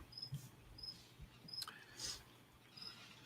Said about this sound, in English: Is anyone else hearing that cricket?